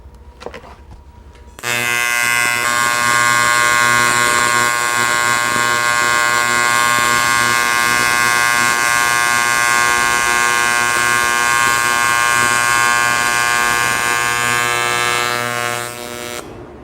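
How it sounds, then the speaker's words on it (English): TIG welding on steel with argon shielding gas turned down to a reduced flow: a steady, loud electric buzz with a strong harmonic hum that starts abruptly, holds for about fourteen seconds without a break, then cuts off. "I'll make a second weld parallel to the first weld."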